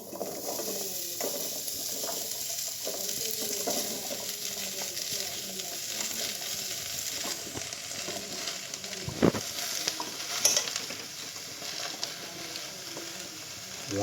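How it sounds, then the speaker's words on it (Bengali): Pieces of bottle gourd cook in a hot, dry wok, giving a soft continuous sizzle with scraping and stirring sounds and a couple of sharper knocks partway through. "এই যে কড়া বসিয়ে দিয়েছি আগুনে, এই যে লাউটা দিয়ে দিচ্ছে।"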